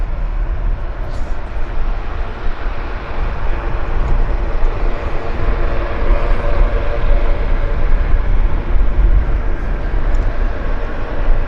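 An Aeromexico airliner at Vancouver airport YVR gives a loud, steady, broadband jet roar that holds throughout without a break.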